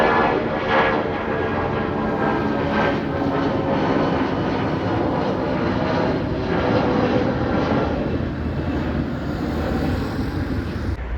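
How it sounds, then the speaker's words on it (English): A Qatar Airways Boeing 787-8 airliner from Doha at Delhi Airport gives off a steady, loud jet engine roar that holds constant throughout, easing slightly toward the end. "That's the 787-8 of Qatar Airways from Doha."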